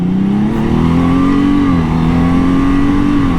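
A 2018 Honda Gold Wing motorcycle engine accelerating steadily, its mid-pitched drone rising slightly and holding loud and close, with no talk.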